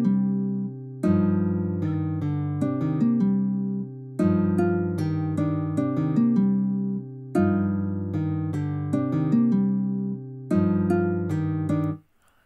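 A plucked acoustic guitar melody for a trap beat made in FL Studio plays alone, repeating a short phrase of low, high and middle notes in four clear loops with brief gaps, then stops.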